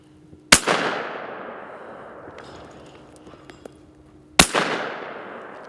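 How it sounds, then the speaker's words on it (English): Two loud, close shotgun blasts at clay targets, about four seconds apart, each a sharp crack with a long rolling echo across an open outdoor range. "Very good shooting."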